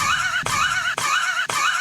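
A repeating whinny-like sound effect in the Geometry Dash VR video game pulses in steady cycles about half a second apart, loud and continuous with a sharp dip at each repeat.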